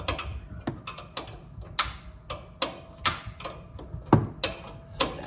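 Ratchet wrench loosening a 9/16 bolt at the top of a shock on a 2005 Silverado Z71, a series of close, sharp clicks and ticks in an uneven rhythm, with no talking.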